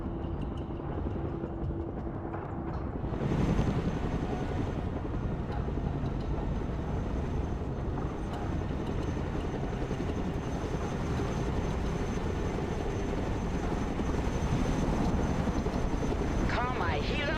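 A helicopter flies in the video game Broken Arrow, its steady rotor and engine drone filling the scene continuously at a constant level, with speech over it.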